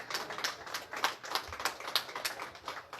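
Audience applause at a bobblehead victory party for a radio host of AM 1150 in Albany: a steady patter of many hands clapping, moderately loud and continuous for the whole stretch.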